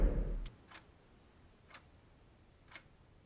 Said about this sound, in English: Look at the clock.